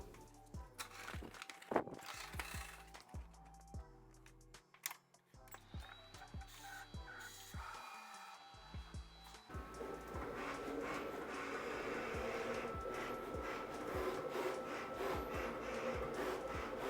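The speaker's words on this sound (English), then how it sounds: "I think the machine is gonna work extra hard because we have so many different squares to cut." A Graphtec vinyl cutter slicing two-color vinyl decals, its carriage whirring and clicking in uneven bursts before settling into a steadier, continuous mechanical buzz, heard close and alone.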